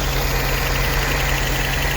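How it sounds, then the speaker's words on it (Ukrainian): A VAZ 2109 carburetor engine idling with unstable, fluctuating revs after carburetor cleaning and valve adjustment, a loud, close, steady low hum and rattle running without pause and with no voices. "щось плавають обороти холостого ходу"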